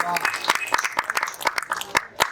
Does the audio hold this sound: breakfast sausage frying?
no